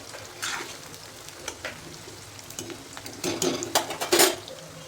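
Onion frying in a pan until golden for a homemade spice masala, crackling sizzle with bursts of stirring and spatula scrapes growing louder toward the end, no voices.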